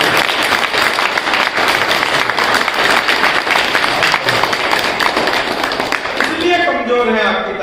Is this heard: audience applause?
yes